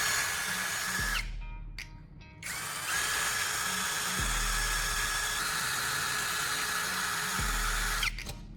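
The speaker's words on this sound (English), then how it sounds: "This is exactly the spot we need to drill." A power drill bores into a plastic phone charger casing, running loudly and steadily at close range, briefly cutting out and restarting, with a low motor hum underneath throughout.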